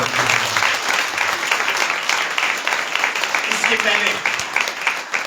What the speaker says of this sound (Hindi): आइए जोरदार ताली बजाकर